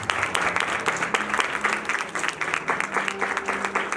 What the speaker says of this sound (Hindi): अपने लिए ताली बजा दें।